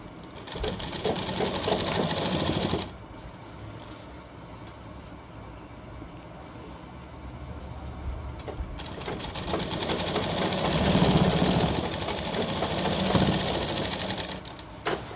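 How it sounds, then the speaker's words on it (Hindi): A sewing machine stitching a shirt cuff onto a sleeve, running in a steady, rapid, close mechanical whir that slows briefly in the middle and then speeds up again, with no talking. "फिर लगाई इसके ऊपर सिलाई।"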